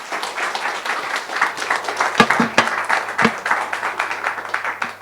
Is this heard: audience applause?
yes